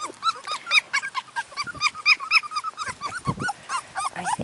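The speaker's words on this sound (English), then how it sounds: "Yes, I have a pile of puppies." A pile of Parti Doodle puppies climbing on a lap whimper, yelp and growl in a busy, overlapping chorus of high squeaky cries, close and continuous.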